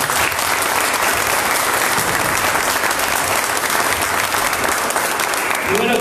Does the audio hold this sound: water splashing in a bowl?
no